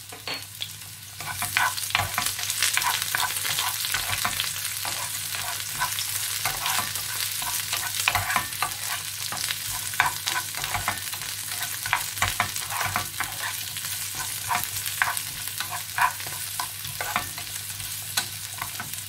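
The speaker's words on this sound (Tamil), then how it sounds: "கடுகு வடிக்க துவங்கிட்டது நான் வெங்காயத்தை ஆட் பண்ணுறேன்." Onions and curry leaves fry with mustard seeds in hot oil for a cashew curry, a steady close sizzle broken by frequent scraping stirs and small crackles, with no talk.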